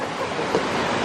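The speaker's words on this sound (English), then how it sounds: "You could hear the water." Flowing water at a waterfall on a Pasadena hiking trail makes a brief, continuous, fairly loud rushing hiss with no voices.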